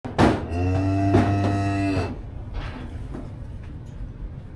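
A heifer calf lets out a loud, close moo lasting about two seconds, followed by quieter shuffling and knocks from the farm pen.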